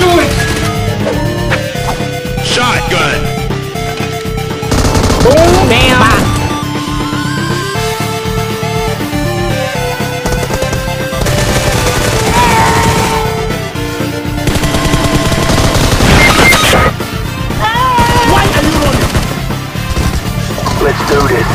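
Gunfire from the BGMI mobile battle royale game, a shotgun among the weapons, crackling in repeated bursts over a busy, music-like game soundtrack while voices talk throughout.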